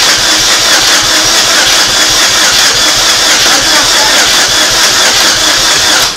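A 2006 Saturn Ion engine cranks over continuously on its starter without catching, the fuel rail disconnected, a loud, steady mechanical churn running throughout.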